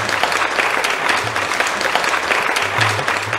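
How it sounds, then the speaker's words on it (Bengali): A crowd of farmers at a programme on farming problems breaks into loud, continuous applause to open the session. The clapping is a dense, even wash that swells slightly toward the end. "তাহলে চলুন জোরে হাততালি দিয়ে অনুষ্ঠানটি শুরু করি।"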